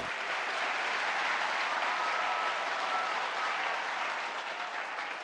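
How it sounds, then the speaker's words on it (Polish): Steady, dense applause from a studio audience in the PS3 quiz game Buzz continues evenly throughout at moderate loudness. "prosimy o gorące brawa dla największego mózgu świata i zwycięzcy programu"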